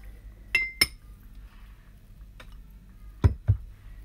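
A spoon stirs a tablespoon of turmeric into warm water in a glass container, giving a few sharp clinks, two close together near the start and two more near the end, with quiet pauses between.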